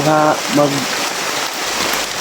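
Steady rain hisses in the background while a voice briefly speaks at the start, then the patter continues alone.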